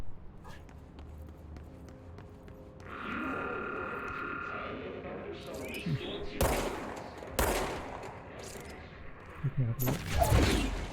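Bursts of gunfire in the video game Control ring out in a corridor, several sharp loud shots and short volleys coming in the second half over ambient game noise, with footsteps between them.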